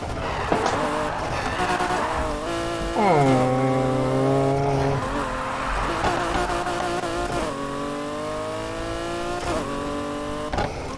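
A modified pickup truck races at night in Need for Speed Heat, its engine revving and shifting through gears with rising and falling drones, loud and close and steady throughout.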